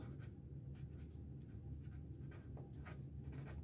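A hand writes out a surveying area formula during a math lesson, with short scratchy strokes in a steady rhythm over a low background hum.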